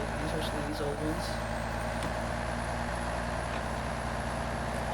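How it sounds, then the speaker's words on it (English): A Ram truck engine in SnowRunner drones steadily and loudly with a constant low rumble, while a voice talks over it. "I really like these Ram trucks."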